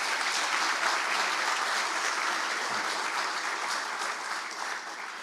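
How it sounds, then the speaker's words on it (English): Sustained audience applause fills a hall after an inaugural academic address, a dense, even wash of many hands clapping that holds steady and tapers slightly near the end. "Let's give him another hand of applause."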